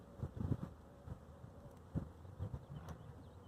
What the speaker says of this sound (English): Those yellow jackets are fierce here in Colorado right now.